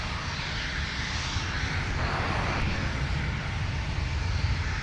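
Airliner departing Minneapolis–Saint Paul airport, a steady broad engine roar holding constant and fairly loud throughout, with no voices.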